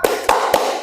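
Three sharp, evenly spaced claps in a classroom spirit-clap routine, close and crisp, each with a short ringing tail and no talk over them.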